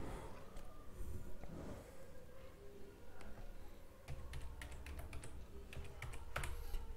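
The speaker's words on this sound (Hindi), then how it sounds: "वहाँ पे आपको अभी टाइप करना है," Someone types a command into an elevated Windows command prompt on a computer keyboard, a quiet run of irregular key clicks and taps that grows busier toward the end, close and alone.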